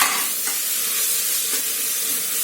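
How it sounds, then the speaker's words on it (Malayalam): Garlic paste and a green chili sauté in hot oil with a loud, continuous sizzle, a few faint spoon strokes stirring through it. "വെളുത്തുള്ളിയുടെ ആ ഒരു പച്ചച്ചുവ മാറുന്നവരെ ഒന്ന് വഴറ്റി കൊടുക്കുക"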